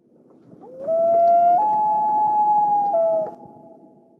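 A common loon gives a single haunting wail across a reservoir: a clear, rising tone held for a couple of seconds that steps up in pitch, then slides back down, heard alone over faint background hiss.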